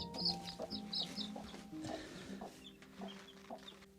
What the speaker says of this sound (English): So John, what do you say if I can just borrow one of your baby chicks?